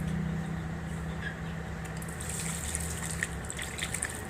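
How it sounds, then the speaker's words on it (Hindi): Water runs and splashes as the left foot is washed during ablution, a steady close trickle from a tap with scattered drips and small gushes, no voices over it. "अब उल्टा पाँव धोएंगे।"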